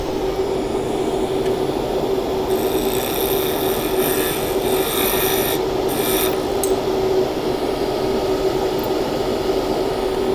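A lathe turns a salt and resin blank, a steady close grinding and rasping hum with a constant tone running throughout, with brief higher scraping bursts in the middle.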